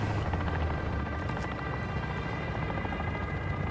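Helicopter in Call of Duty Warzone 2.0 DMZ, a loud, steady low rotor drone with a chopping pulse, close and continuous, with a few faint sharp cracks early on.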